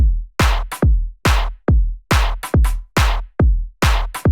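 Loud, punchy bassline-style drum beat with deep kicks and snappy snares quantized on the grid, landing in an even, straight pattern, no other instruments.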